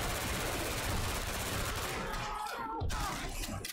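Rapid automatic gunfire in Left 4 Dead 2 during a Boomer attack, loud and dense bursts filling the whole moment with a brief drop near the end, no talk over it.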